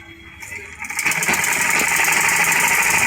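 Close and loud, a sewing machine stitches a trouser back pocket in a fast steady clatter that starts about a second in and keeps running, with a voice faint beneath it at first.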